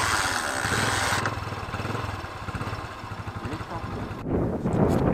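A motorcycle engine is kick-started with the clutch in and switches on, then runs with a steady low, lumpy putter and a rougher burst near the end, fairly close and alone.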